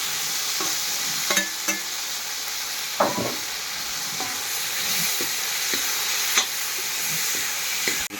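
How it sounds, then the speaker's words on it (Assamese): Boiled potatoes and tomato pieces fry in a pan with a constant sizzle, while a utensil stirs them, making occasional scraping clicks and taps near the pan. "আলুৱে বিলাহীয়ে ধুনীয়াকৈ ভাজি লওঁ।"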